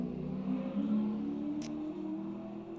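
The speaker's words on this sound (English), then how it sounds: "Very loud car going by that is slower than my car." Loud car driving past outside, a faint, muffled engine hum heard from indoors that rises slightly and fades over a few seconds, alone without talk.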